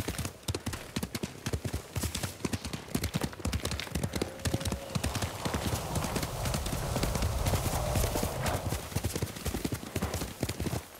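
Horses galloping in the samurai game Ghost of Tsushima, with a steady, rapid clip-clop of hooves close by throughout and a brief neigh partway through.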